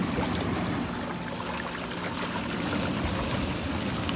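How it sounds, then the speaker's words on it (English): A hot tub pump running on high drives a steady, dense rush of flowing, churning water, loud and continuous throughout without pause. "turn your motor on, your pump on high."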